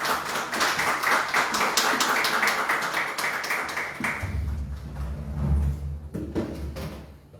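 An audience at a Korean youth politics lecture event claps to welcome a party chairman to the stage, steady applause for about four seconds before giving way to low rumbling and scattered knocks.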